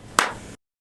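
A single sharp hand clap, close and loud, struck once to sync a podcast recording, with a short room tail before silence.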